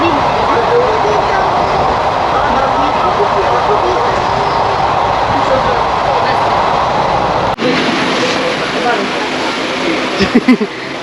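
Steady, loud rumbling and rattling inside a moving passenger train, a continuous roar of the carriage on the rails that shifts in tone partway through, with people talking over it.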